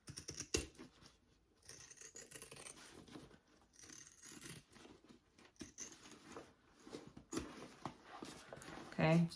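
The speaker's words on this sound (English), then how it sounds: "And I'm going to sit here and just do some trimming." Scissors trim fabric for a tote bag in a quiet sewing room, giving soft intermittent snips and rustling that come and go across the stretch, close and faint, with no voice.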